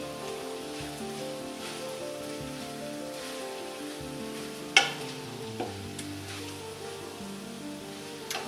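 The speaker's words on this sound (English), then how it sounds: "just want to keep stirring this around" Chili being stirred in a pot, a steady close scraping and bubbling texture with a couple of sharp clanks of the spoon against the pot, no talk.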